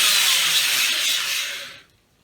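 Cylinder hone turning at slow RPM inside a Ford Taurus SHO engine block, a loud close abrasive whirring grind that holds steady, then tapers and stops near the end.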